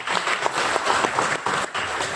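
Audience applause fills a corporate leadership seminar hall during a motivational talk, a dense, steady wash of many hands clapping for about two seconds with no voices over it.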